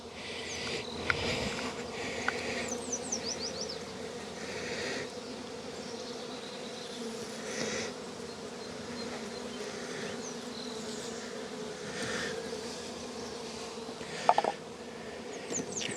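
Honey bees buzz in a steady, dense drone around an open hive during a nuc transfer, with occasional louder passes as individual bees fly close.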